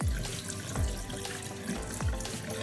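Tap water runs into a sink to soak an embroidery design, a steady close splashing stream with bubbly gurgles and drips, no talking.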